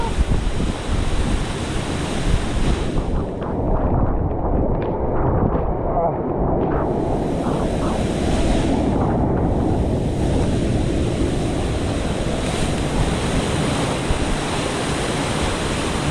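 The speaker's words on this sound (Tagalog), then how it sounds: "Talagang hanggang ngayon tingnan yung alon." Rough ocean waves after Typhoon Kristine crash and roll continuously, a heavy broadband roar mixed with strong wind buffeting the microphone, loud and steady throughout while people talk faintly underneath.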